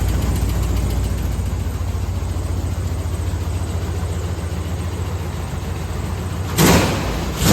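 A square-body truck engine idles with a leaking exhaust header, a steady loud low rumble with rapid ticking puffs, ending in a brief bang near the end.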